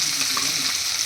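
Spices crackle and sizzle in hot oil alongside fried potatoes and cumin for a light Bengali mixed-fish curry, a steady close frying hiss with soft stirring scrapes and no voice.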